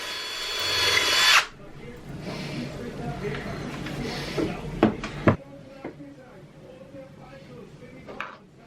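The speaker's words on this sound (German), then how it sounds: "Am Gegenstück werden jetzt ebenfalls die beiden Bohrungen für die Holzdübel gebohrt" A power drill whirs loudly for about a second, drilling dowel holes in a furniture panel, then stops, followed by clattering wooden knocks and workshop handling noises.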